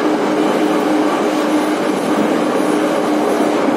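A Moscow metro train runs with a steady, loud rumbling roar and a faint whine, continuous throughout with no voices.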